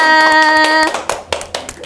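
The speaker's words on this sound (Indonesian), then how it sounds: "Nih, beri tepuk tangan dulu dong buat Mbak Erlina." Audience clapping for a contestant at a university quiz event, a few loud, separate claps close by following a sustained tonal chime, sparse and uneven.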